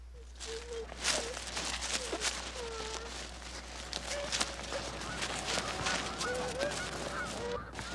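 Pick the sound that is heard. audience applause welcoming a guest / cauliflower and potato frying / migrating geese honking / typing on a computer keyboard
migrating geese honking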